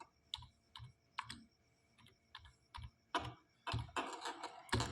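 Someone types on a computer keyboard while entering text into an MS Word document, close-up clicks in irregular short bursts that grow into faster, denser runs of keystrokes toward the end, with no speech.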